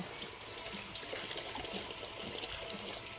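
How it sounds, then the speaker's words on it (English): Tap water runs steadily over vegetables being rinsed of dirt in a home kitchen, a continuous even hiss and trickle at close range with no talking. "the rest of it we'll try to wash the dirt off and then go from there"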